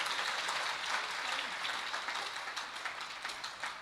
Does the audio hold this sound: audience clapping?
yes